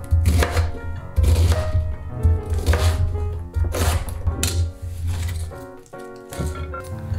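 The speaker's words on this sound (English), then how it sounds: "we will chop the cabbage into easy bite-sized pieces" A knife chops cabbage into bite-sized pieces on a cutting board for spicy Korean pork, a steady run of close, loud chops with brief pauses and no talking.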